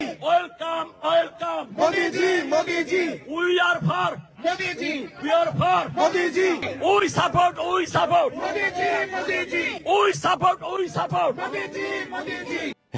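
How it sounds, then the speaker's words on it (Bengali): A crowd in America chants slogans in Modi's name, loud, rhythmic shouted voices repeating continuously across the whole stretch with dense babble beneath. "দেখেন আমেরিকাত তারা মোদির নামে স্লোগান দেয়"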